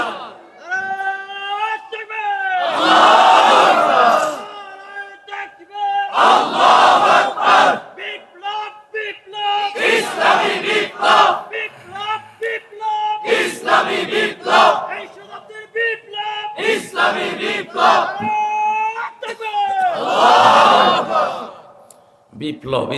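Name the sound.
crowd chanting back in response to Nara-e-Takbir slogan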